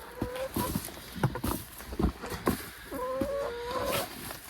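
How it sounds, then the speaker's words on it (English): Chickens clucking up close in short, uneven bursts, with a few brief higher calls and light shuffling noises around them. "Just come and check on the chickens."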